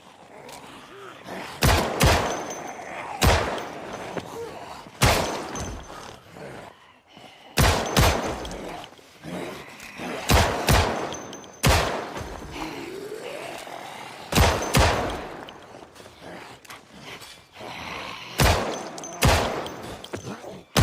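Video game gunfire from Project Zomboid Build 42.8, loud sharp shots fired singly and in short bursts at irregular intervals, with quieter game ambience between them.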